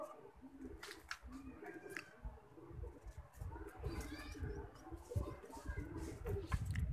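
Pigeons coo softly amid shuffling and fluttering, with a person talking quietly in the background.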